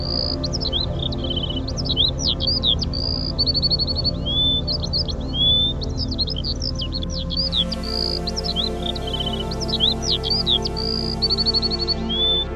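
Costa Rican birds with iridescent plumage and flowing tail streamers give repeated high chirps and sliding whistles in quick clustered phrases, steady over a low continuous background hum.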